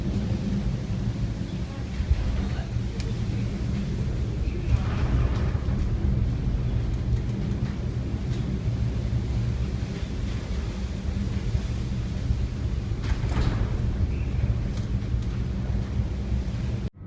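Storm at sea in the North Sea around a 3,400-ton vessel: a dense, unbroken roar of wind and water with low rumbling, loud and steady throughout.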